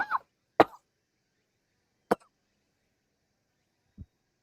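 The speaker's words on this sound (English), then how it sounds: "Oh, sorry for coughing." Three or four sharp, isolated coughs with silent gaps between them, close and fairly loud, the last one softer.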